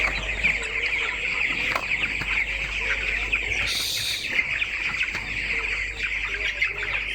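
Broiler chickens resting in a poultry shed, a dense flock clucking and chirping continuously over a steady low hum, with one brief louder squawk partway through.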